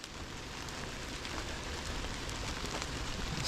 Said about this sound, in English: The rain is starting to